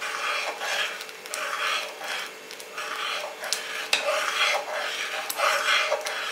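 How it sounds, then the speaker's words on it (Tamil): Ragi flour batter stirred into cooked rice in a pot for ragi kali: a continuous wet rubbing and scraping of a spoon against the pot, steady and close, with no talk. "ஊற்றிக்கிட்டே கிளறிடுங்க."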